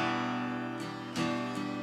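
Guitar chords from a song played slowly, a faint sustained strum that rings out with a couple of soft new strokes.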